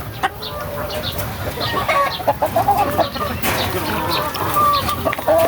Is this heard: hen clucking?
yes